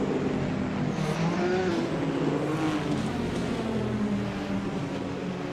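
Race cars in a racing video game at Circuit Zolder, engines droning and shifting pitch in a dense, continuous pack, mid-distance and fairly steady, with no voices.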